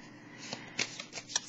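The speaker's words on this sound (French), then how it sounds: "je vais piger une carte qualité, une carte animale pour le signe du scorpion" A tarot card is drawn from a deck, giving a few soft, quick papery flicks and shuffling rustles close by in a quiet room.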